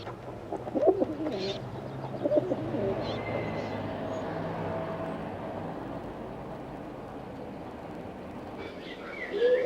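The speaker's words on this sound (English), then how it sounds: "The wood pigeon nests in trees and is quite common in town parks and gardens." A wood pigeon cooing in a soft, low, repeated rhythm, moderately distant, with a voice speaking over parts of it.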